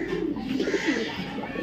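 Shirting pigeons cooing steadily close by just after being released, with soft wing flutters mixed into the continuous low warbling calls.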